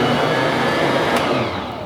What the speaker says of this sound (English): I'm going to turn on my mixer and let it run for 10 minutes.